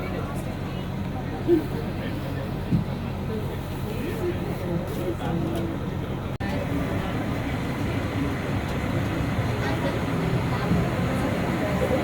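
Steady low rumble of a mountain railway train in New Hampshire getting underway, continuous and broadband with a few faint clanks, with people talking over the engine noise.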